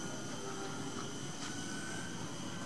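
A modified twin-propeller balsa trainer model airplane drones overhead in a steady, moderately distant whine as it flies and climbs, with no voices.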